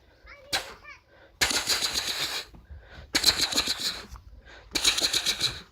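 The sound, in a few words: mouth imitation of gunshots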